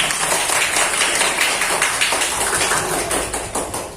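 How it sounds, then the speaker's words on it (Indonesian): Students in a classroom applaud a presenting group, dense overlapping claps forming a steady, fairly loud wash that fades slightly toward the end. "Ya, beri tepuk tangan untuk kelompok 4."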